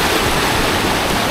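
A river stream near Curug Bangkong waterfall in Kuningan gives a loud, continuous rush of flowing water, steady and alone without voices.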